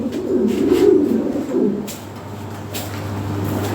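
Large Lahore pigeons coo in a low, soft, rolling run through the first two seconds, close by, then fade to a quieter background with a steady low hum.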